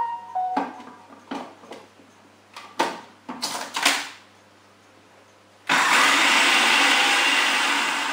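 Dry ingredients for vegan brownies, including baking powder and salt, being mixed: a series of irregular clicks and clattering bursts, then a loud continuous whirring hum of an electric mixer running steadily to the end, close and without talk.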